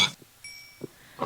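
Short pig grunts in Minecraft, a couple of brief oinks separated by quiet gaps, fairly close.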